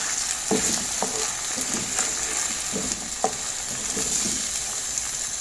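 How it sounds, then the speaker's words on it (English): Bolognese sauce with a pepper mix bubbles and sizzles in a pan on the stove, a steady frying hiss under soft scraping stir strokes and occasional clinks of the utensil. "I'll just stir and cover and allow it to simmer."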